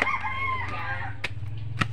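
A rooster crows nearby, then a couple of short clucks or calls follow over a low steady hum.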